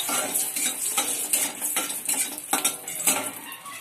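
Green chilies dropped into a little hot oil in a pan while cooking jute leaves, giving a bright sizzle mixed with scraping and clinking of a utensil against the pan, close up and with no talking.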